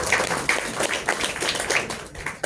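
An audience at an interactive dialogue event on nationalism applauds, a steady patter of many hands clapping at moderate loudness, with no speech over it.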